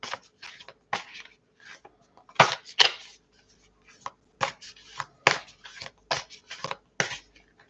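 Tarot cards being shuffled by hand, close and crisp, in a series of short irregular riffling bursts separated by brief quiet gaps.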